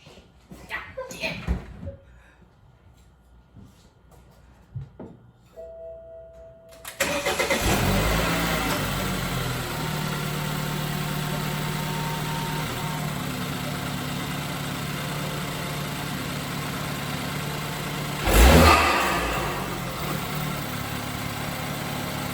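A BMW F30 engine with a newly installed MST Performance intake cranks and catches at about seven seconds, then idles steadily and loudly, with a sharp rev burst near the end.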